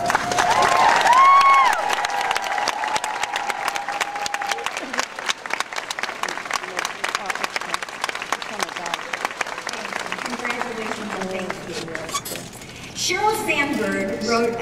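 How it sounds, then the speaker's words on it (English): An audience at a Mary Kay career conference in San Diego breaks into loud, sustained clapping and some cheering that gradually thins out, with voices speaking over it near the end. "please stand for a big round of applause"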